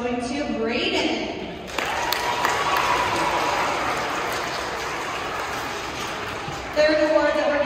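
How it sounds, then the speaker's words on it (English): Audience at a school math award ceremony breaks into a long round of applause after an amplified announcement, the steady clapping carrying on for several seconds before a speaker resumes. "we will give one big round of applause"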